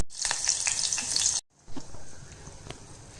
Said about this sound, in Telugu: ఇలా ఆయిల్ వేడెక్కాక పచ్చిమిర్చి కూడా వేగిన తర్వాత మనము వంకాయని యాడ్ చేసుకుందాం.